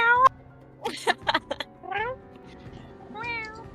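A house cat meows several times in short, rising calls that grow into a drawn-out caterwaul near the end, close and fairly loud against a quiet indoor background.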